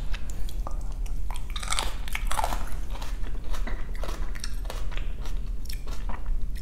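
Someone bites and chews kimchi during a Korean mukbang meal of galbi short ribs and dumpling soup, close-miked wet crunching and smacking bites repeating steadily throughout without talk.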